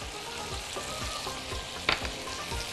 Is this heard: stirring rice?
yes